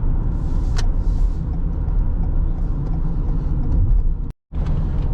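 Inside a 2021 Toyota Sienna LE hybrid van under acceleration, a steady, loud engine and road rumble fills the cabin, broken by one brief dropout near the end.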